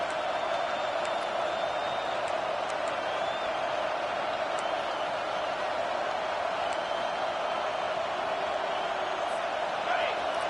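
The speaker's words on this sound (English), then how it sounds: "The roar of the crowd trying to fuel this defense to keep them pinned in their own end." Steady crowd roar from stadium fans at an American football game, urging the defense to keep the opponent pinned deep in their own end; a continuous, dense wash of noise holds at an even level throughout with no clear breaks.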